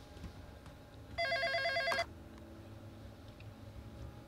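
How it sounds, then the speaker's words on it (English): A telephone rings in the video game Yesterday Origins, one loud electronic trilling burst of just under a second within quiet room ambience. "Answer the phone."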